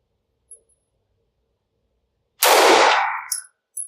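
A single loud shot from a Taurus TH9 9mm compact pistol on an outdoor range rings off a steel target, followed by a short metallic clang, after a faint tick.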